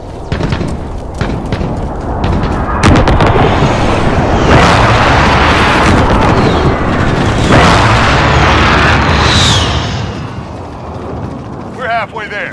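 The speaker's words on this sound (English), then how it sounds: "Enemy precision airstrike inbound." Explosions from precision airstrikes in Call of Duty Modern Warfare, a loud sustained rumble of blasts and booming impacts that swells and rolls for several seconds before tapering off.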